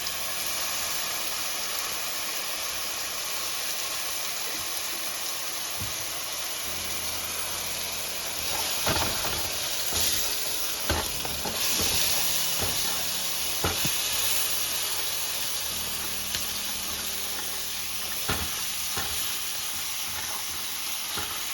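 Ragu sauce sizzles in a pan with fried fresh tomato, garlic and black pepper, a loud continuous hiss with scattered stirring clicks and scrapes and no one talking.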